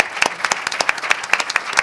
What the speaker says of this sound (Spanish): El aplauso fuerte para nuestros dos creadores.